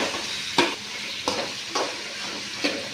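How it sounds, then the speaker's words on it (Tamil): Chicken fries with onion and dried chillies under a constant sizzle, broken by four evenly spaced scraping stir strokes from a spoon in the pan. "சிக்கன் கொட்டினோடனே நல்லா கிளறிக்கிட்டே இருங்க"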